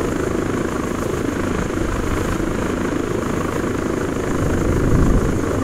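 Steady engine drone of an aircraft in ARMA 3 as the throttle is dropped and the nose raised, a dense continuous roar with a slight swell near the end, no talk.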